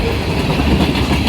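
A westbound CN manifest freight train with a big locomotive lashup passes close by, its cars rolling past in a loud, steady rumble with rhythmic clickety-clack from the wheels and no talking.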